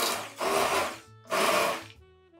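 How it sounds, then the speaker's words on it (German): A blender purees plum butter in two loud whirring bursts, each a second or so long, separated by short pauses with a faint hum trailing after. "könnt ihr die Zimtstange und das Sternanis rausfischen und das Pflaumenmus pürieren."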